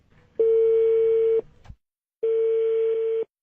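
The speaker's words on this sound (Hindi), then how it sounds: "गुरचरण जी मैंने आपसे बात करने से पहले पाकिस्तान में फोन किया था" Two long steady telephone tones from a recorded call to Pakistan, each about a second long with a short pause between them, clear and alone with no talk.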